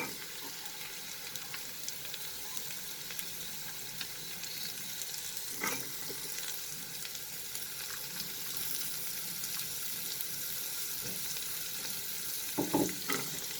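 Carrots go into a pan with other vegetables for a mixed vegetable dal, giving a soft continuous sizzle and frying hiss with a few faint clatters near the end, no voices.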